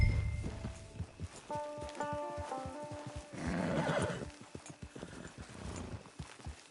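A horse in the Red Dead Online video game whinnies close by with a long, wavering neigh while hooves clip-clop at a walk underneath. The sound is clear and moderately loud.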